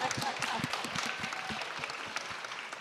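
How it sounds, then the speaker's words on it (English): Audience applause at a Mid-Atlantic summit, a steady wash of many hands clapping that fills the short stretch at even loudness, with no voices above it. "That's worth an applause"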